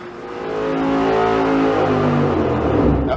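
V8 engine on a dyno pull fitted with a 1-inch open spacer, revving up and holding a loud, steady roar at high rpm with a rising then sustained tone, no talk.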